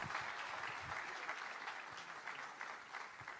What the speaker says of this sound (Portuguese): Eu queria que mais uma vez você aplaudisse ao Senhor